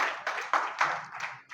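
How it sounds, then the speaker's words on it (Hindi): A small group at a community review meeting claps in short uneven bursts. The individual hand claps are close and distinct. "उनके लिए भी जोरदार ताली होनी चाहिए"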